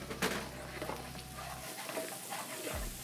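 Garlic goes into a pan of sizzling shrimp, onions and peppers, a soft, continuous frying hiss with light stirring, fairly quiet and close, with a low hum dropping out midway.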